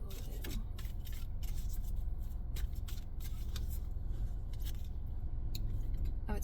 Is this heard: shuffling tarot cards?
yes